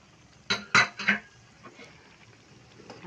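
Igado with green peas being stirred in a metal pan, three quick loud scrapes and clanks of a spoon against the pan, then quieter faint movement, close up with no talking.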